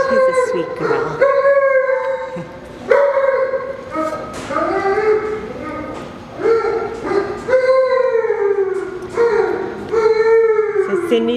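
Shelter dog at an animal care center giving repeated barks, yips and howling whines in close, loud bursts with short gaps throughout.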